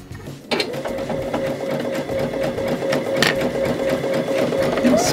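A Baby Lock sewing machine stitches steadily for about five seconds, its needle mechanism whirring and clattering after a brief quiet start, close and fairly loud with no talking.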